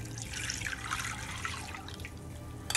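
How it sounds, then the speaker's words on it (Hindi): A full jar of cold water poured for pani puri, a steady close splashing and trickling stream that runs the whole time without a break, with no talking. "अब हम पूरा एक जार भर के इसमें पानी डालें"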